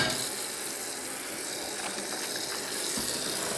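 Water runs from a tap into a kitchen sink to rinse seasoned fish, a steady close gush with faint clinks and handling noise underneath and no talk.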